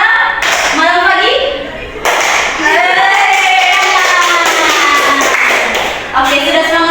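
Children and a teacher in a group guidance session chant a rhythmic clapping game, with claps and chanted voices mixed together at close range, one brief pause, then the chant resumes.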